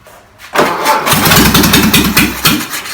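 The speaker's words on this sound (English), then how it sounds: "let me crank it. Just crank it and see." A rare 1959 VW Beetle engine cranks with a rapid chugging starter rhythm, then catches and runs loud and close in an uneven, rising idle.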